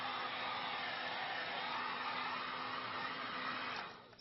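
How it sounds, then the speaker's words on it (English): A heat gun on its high setting blowing over a permanent fruit centerpiece to melt hot glue webs, a steady close rushing hot-air roar that begins to fade near the end. "I have a heat gun that I got at the DIY store"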